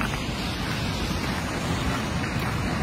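Atlantic Ocean surf washes against a rocky beach near Portland Head Light in Maine, a continuous broad rushing roar with wind noise, steady and unbroken throughout.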